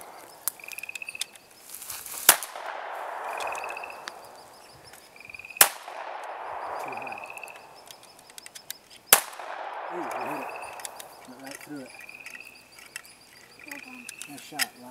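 Three loud, sharp handgun shots ring out at a shooting range, spaced a few seconds apart, each followed by a brief echoing tail, with outdoor background chirps and light talk between the shots.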